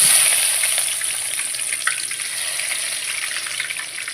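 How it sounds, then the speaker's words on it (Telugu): Chopped onions hit hot oil in a pan for chicken curry, giving a steady, bright sizzle that starts strong and settles into a continuous crackling fry, close and alone. "ఆయిల్ హీట్ ఎక్కినప్పుడు దాంట్లో కట్ చేసి పెట్టుకున్న ఆనియన్ ముక్కలు వేసుకోవాలి."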